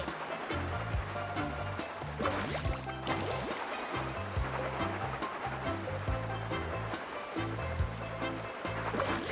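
Surfing on waves in Genshin Impact, the ocean wash and surf steady throughout over a rhythmic game music bed, with splashy bursts as the board carves.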